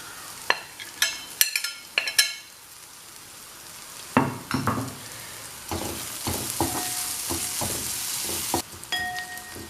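Chili powder mixture and prawns fry in a pan, loud close sizzling broken by repeated sharp scraping clatters of a spoon stirring, with a steady crackle underneath between the strokes.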